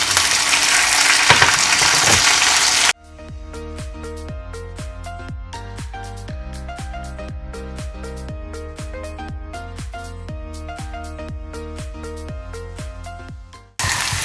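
Garlic, ginger, green chilli and curry leaves frying in hot oil for a Kerala-style dish give a loud, dense sizzle for about three seconds, then it cuts off abruptly and rhythmic music takes over.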